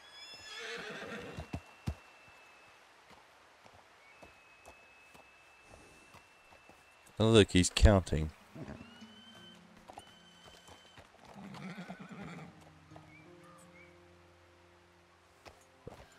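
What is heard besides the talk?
wild horses neighing, from a video game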